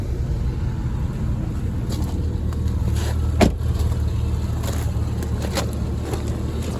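A car engine idles steadily at an outdoor auto auction, a continuous low rumble with a brief louder bump midway; no one speaks.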